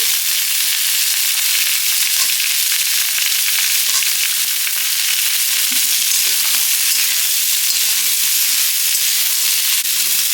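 Cauliflower and beans frying in a pan for khichuri, a steady close sizzle and hiss with occasional stirring scrapes throughout, no voices.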